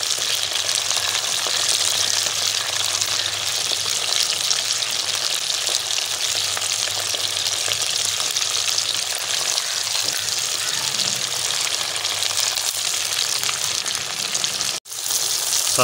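Tomatoes hit hot oil for Peshawari charsi karahi, giving a steady, loud, close sizzle and frying hiss that holds unbroken for the whole stretch, with a brief dip near the end and no talking.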